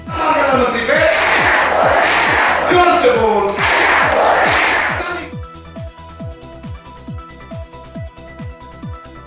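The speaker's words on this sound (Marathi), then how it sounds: "आज सोलापुरात सावित्रीबाईंचे मुखवटे घालून अंगणवाडी कर्मचाऱ्यांनी केले आंदोलन" Anganwadi workers protesting in Solapur while wearing Savitribai masks: a loud crowd chants in unison in surging waves, then gives way to a steady, rhythmic thumping beat.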